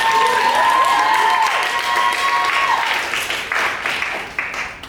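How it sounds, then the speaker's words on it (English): A crowd applauds loudly with a few voices calling out over the clapping, and the clapping thins and fades toward the end. "That's the most enthusiastic applause for a program I've ever heard."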